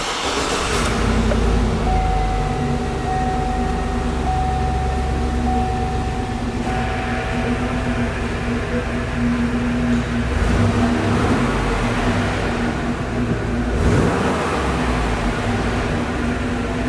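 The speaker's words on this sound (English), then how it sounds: "let's go ahead and start her up so you guys can listen to the exhaust note" A Hummer H2 engine runs steadily, a low, continuous, loud exhaust rumble with a faint tonal whine on top and slight swells in level throughout.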